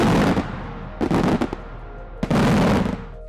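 Daytime fireworks launch into the sky in rapid crackling volleys, loud and close, with two main bursts of popping separated by a short lull.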